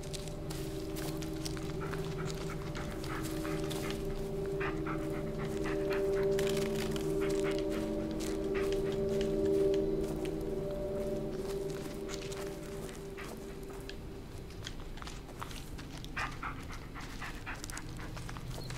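A dog in the Blair Witch game pants rhythmically close by and lets out whimpering whines, with footsteps crunching along the forest ground under it.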